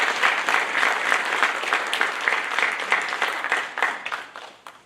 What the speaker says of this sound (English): So round of applause to our teachers and to our families.